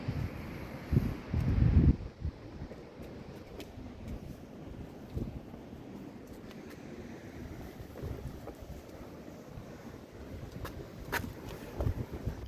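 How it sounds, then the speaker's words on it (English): Gusty wind buffets the microphone in heavy low rumbles, strongest early on, over a faint open-air background with no one speaking. "it's a very windy day today"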